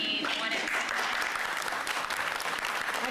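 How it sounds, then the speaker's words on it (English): Applause from the press corps at New York City Mayor Bill de Blasio's press conference on a bike safety plan, a dense, steady patter of many hands filling the room at close range. "I don't usually get applause for that."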